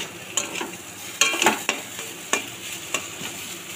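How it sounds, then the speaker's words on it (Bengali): Semolina roasting in a kadai while a spatula stirs it, giving a handful of sharp scraping strokes at an uneven pace over a soft constant sizzle, close and fairly loud. "দেখুন একদম সুজিটা ভাজা ভাজা হয়ে গেছে।"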